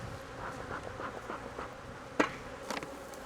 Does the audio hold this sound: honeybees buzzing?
yes